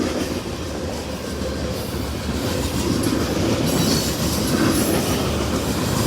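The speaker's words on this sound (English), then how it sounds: "2 Bright Line train sets headed for Florida. They're behind this train" A train rolls past on the tracks hauling two Brightline train sets, a loud continuous rumble with rhythmic wheel clatter and faint squeals, close and steady throughout with no voices.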